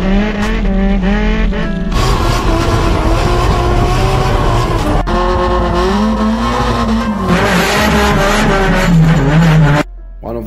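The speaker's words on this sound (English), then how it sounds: "the blips are almost endless if you ask me" A drift car's engine is worked with rapid Kansai-style throttle blips, producing loud, continuous revving that surges and drops over and over, with possible tyre squeal mixed in and no voices.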